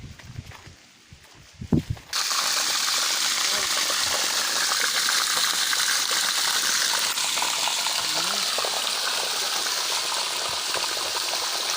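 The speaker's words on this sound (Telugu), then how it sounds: "నీళ్ళు మంచిగా వస్తున్నాయి అమ్మ బోర్లో." Water from a borewell on farmland in Sangareddy district gushing out in a loud, steady broadband rush that starts abruptly after a couple of seconds of quieter sounds and continues unbroken.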